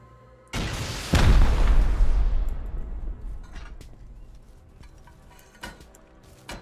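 HV rocket blasts striking barricades and rugs in a game, a loud sharp explosion that booms and slowly decays, followed by fainter scattered pops.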